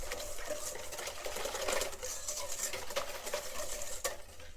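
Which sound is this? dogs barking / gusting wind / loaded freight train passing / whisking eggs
whisking eggs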